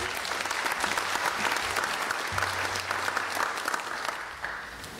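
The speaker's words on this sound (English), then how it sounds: "Another warm round of applause, please, to all of our speakers from the morning" An audience at an ICAO conference on remotely piloted aircraft systems applauds the morning's speakers. The clapping is dense and continuous from a large room, with a faint murmur underneath, and it tapers slightly near the end.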